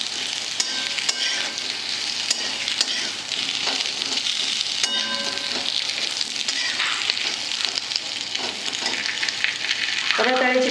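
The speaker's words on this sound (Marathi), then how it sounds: "रताळ्याचे काप असे तुपावर चांगले परतून द्यायचे।" Sweet potato slices fry in ghee with a loud, continuous close sizzle, joined by occasional clinks and scrapes of a spatula turning them, with no voices.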